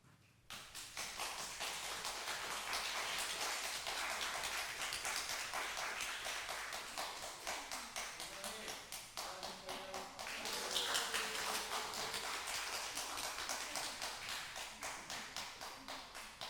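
A church congregation claps together in sustained, dense applause that keeps a steady level for most of the stretch, with faint voices underneath.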